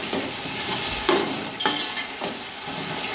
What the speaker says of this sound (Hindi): दो मिनट तक इसे भूनते हैं